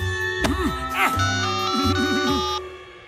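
A cartoon phone ring tone plays as a call is placed, a short melodic warbling chime with sweeping notes repeating over about three seconds, fairly close and clear.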